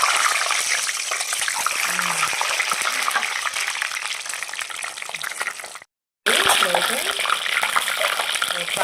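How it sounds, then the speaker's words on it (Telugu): Eggs dropped into hot oil in a pan give a dense, crackling sizzle that stays loud and even, broken by a sudden moment of silence before the frying resumes at full strength. "కాగిన ఆయిల్లో ఎగ్స్ అనేవి వేసుకుంటున్నాను నేను."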